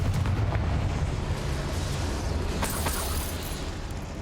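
A Confringo explosive spell in Hogwarts Legacy bursts with a heavy rumbling boom that decays over a few seconds, loud and close with a faint crackling tail and no talk.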